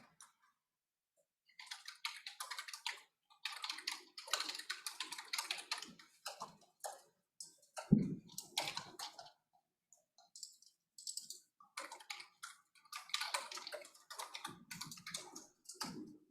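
Quick bursts of clicking keystrokes on a computer keyboard, close and fairly quiet, arriving in irregular runs with short pauses and one heavier thump midway.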